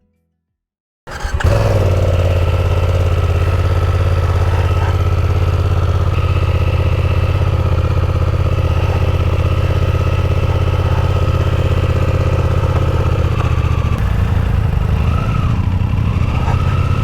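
A motorcycle engine starts with a sudden burst, then idles loud and close with a steady low throb and rattle at the start of a ride on the Alaska Highway.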